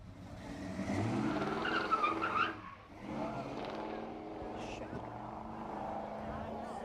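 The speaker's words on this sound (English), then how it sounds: "She's a 4-barrel, 4-speed transmission with dual exhaust that makes it a perfect 10." A convertible with a 455 V8, four-barrel carburetor, four-speed transmission and dual exhaust roars loudly up the course at a hill climb, easing briefly before the engine rumble resumes. Voices talk over it.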